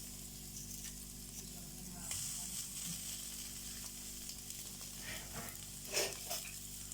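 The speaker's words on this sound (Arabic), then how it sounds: "انا خليت حته دهنه كده صغيره هشوح فيها اللحمه" Meat searing in a small piece of fat on the stove, a steady soft sizzle with brief louder crackles near the end, no talking.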